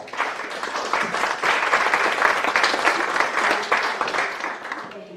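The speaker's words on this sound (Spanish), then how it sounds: "Un fuerte aplauso." Audience applause at an academic panel, a broad, even wash of clapping from a crowd that swells after the first moment, holds steady, then fades at the end.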